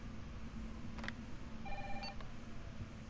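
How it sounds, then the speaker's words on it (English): A telephone rings in the Resident Evil 3 video game, a faint brief electronic ring tone heard a couple of times over a low steady game ambience, with no talking. "Oh, someone's on the phone."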